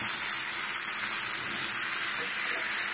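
Spices and pre-fried potatoes sauté in a hot pan for an echorh chingri (jackfruit and prawn) curry, giving a steady, close, loud sizzle with no pauses.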